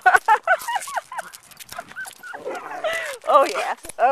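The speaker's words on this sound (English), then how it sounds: "Oh yeah, oh crazy dog." A playful puppy whimpers and yips in quick, high whiny bursts, close and fairly loud, with short pauses between cries.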